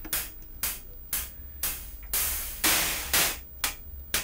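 Bursts of hissing noise from a Vermona synthesizer pulse in a regular rhythm, each swelling and cutting off, their brightness shifting as a filter sweeps across them.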